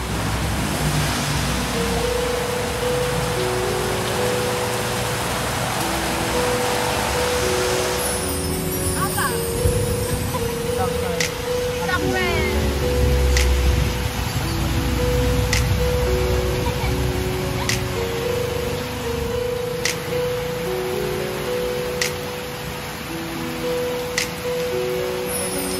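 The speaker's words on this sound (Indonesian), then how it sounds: "hujannya tambah deras" Heavy rain pours steadily on a road during downhill riding practice, a dense, loud wash of noise that holds throughout, with people talking and a low engine hum underneath.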